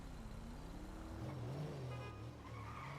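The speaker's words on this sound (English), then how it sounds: "Listen to that engine." A car engine revs in the GTA RP video game, its pitch climbing and wavering while the tires squeal in a sustained skid, loud and close.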